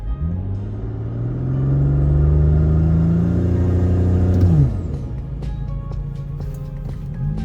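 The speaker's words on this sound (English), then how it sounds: "From here, with traction control off, I can now engage launch control as normal." A B9 Audi S4 with traction control off performs a launch-control start held in second gear, its engine rumbling loudly and rising in a steady rev before dropping off sharply, then settling to a low idle with a few faint clicks.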